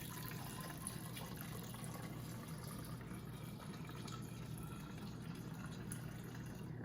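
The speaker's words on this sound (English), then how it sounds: "we will pour the vinegar inside until the bottle is about halfway full" Vinegar poured through a funnel into a bottle: a quiet, continuous trickle of liquid that holds steady throughout, with no speech.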